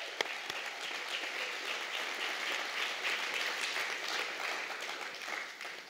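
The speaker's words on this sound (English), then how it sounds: "Let's give them a resounding round of applause." A graduating class receives a long, even round of applause at a school graduation ceremony, many hands clapping steadily at a moderate distance with no pauses.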